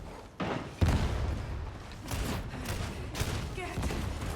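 Enemy gunners firing in Warhammer 40k: Darktide, a thudding burst of shots followed by scattered bangs and a rapid volley, mixed with voices talking over the game sound.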